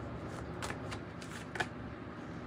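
Tarot cards are shuffled by hand at close range, soft riffling and flicking with several sharper snaps over a quiet room-tone background.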